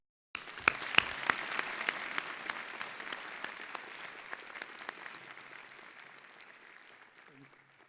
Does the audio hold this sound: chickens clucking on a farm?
no